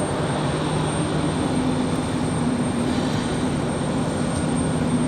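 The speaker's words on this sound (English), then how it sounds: "Got a JetBlue, looks like an A220, getting ready for their departure" JetBlue Airbus A220 taxiing away from Terminal 2 at Raleigh-Durham airport for departure, a steady, fairly loud engine rumble and whine holding evenly throughout with a faint high tone above.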